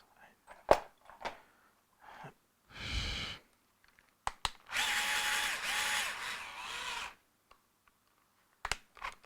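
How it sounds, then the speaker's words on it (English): A power drill fitted with a 3 millimeter bit runs in one sustained burst of a couple of seconds while working on a DMX-controlled AC motor build, with scattered clicks, handling knocks and brief quiet sounds around it. "So we will use this drill. 3 millimeter."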